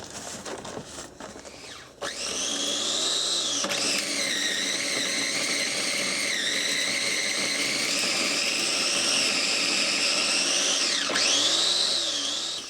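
A blender blending compost scraps starts up and whirs loudly and continuously, its high-pitched motor whine wavering slightly as the contents churn.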